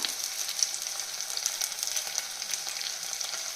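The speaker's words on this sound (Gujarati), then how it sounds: "શાકભાજી સરસ સંતળાઈ ગયા છે" Chopped vegetables sauté in a pan for vegetable fried rice, a steady, fairly quiet hiss of oil sizzling with small crackles throughout, close by and uninterrupted by voices.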